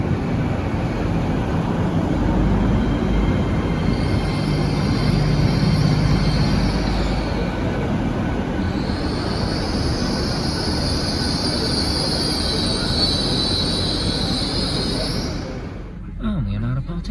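Trans-Pennine Express train pulling out of Manchester Victoria, heard from on board: a steady rolling rumble with rising high whines from the traction motors, growing louder, then easing off near the end.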